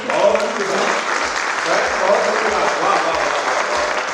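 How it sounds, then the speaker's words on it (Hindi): Sustained applause from an audience at a Hindi kavi sammelan poetry gathering, a dense steady wash of many hands clapping throughout with low thumps and some crowd murmur mixed in. "मैं चाहता हूँ कि एक बार जोरदार तालियां"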